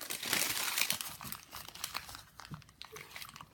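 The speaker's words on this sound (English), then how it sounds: "I'm just dunking it into the water and wringing it out" Wet plaster cloth for model railway mountain terrain being squeezed, wrung out and shaped by hand, giving soft, close crinkling and squelching rustles that fade toward the end.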